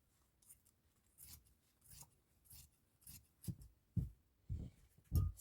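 Scissors trimming fabric for a lined pouch, a run of soft snipping cuts that grow closer together and louder toward the end, close by and with no talking.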